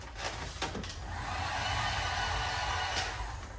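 Heat gun blowing steadily as it warms vinyl wrap film on a Hellcat Charger, a close, even whooshing hiss that holds for several seconds with a few faint clicks and rustles.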